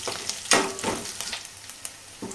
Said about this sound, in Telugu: వేసి అంతా కలుపుతూ ఇలా దోరగా వేయించుకోవాలి